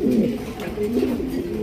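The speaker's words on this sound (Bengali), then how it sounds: "দর্শক 2800 টাকায় বিগ সাইজে একজন মাল্টেস কবুতর নিতে পারবেন" Maltese and magpie pouter pigeons coo in a close, loud, continuous run of low rolling coos, with no talk over them.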